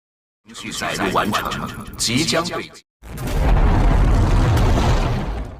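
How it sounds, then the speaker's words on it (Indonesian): A voice speaks, then after a short silence a loud, deep explosion erupts into a sustained, rumbling roar. "Sistem mengumumkan proses penghancuran dimulai, dan ledakan besar pun terjadi."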